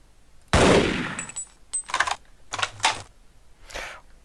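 Magnum revolver shots ring out in the video game Half-Life, one loud blast followed by several shorter bursts spaced about a second apart, close and sharp.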